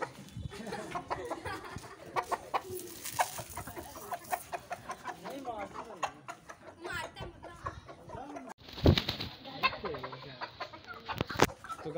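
Chickens and a rooster on a small backyard farm cluck and call at close range over a steady bed of voices, with a sharp, louder burst of fowl noise near the end.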